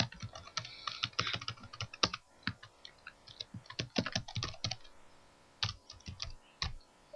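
Fingers type on a computer keyboard in irregular bursts of crisp key clicks, close up, with short pauses between runs of keystrokes.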